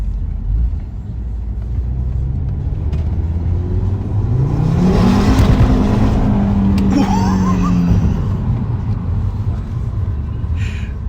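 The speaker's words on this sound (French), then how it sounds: "Des Audi Quattro qui patinent, attention, faut préciser." An Audi Quattro revs hard and spins its wheels, a loud engine roar that climbs in pitch to a peak and then falls back, with a sustained rumble and tire whir throughout.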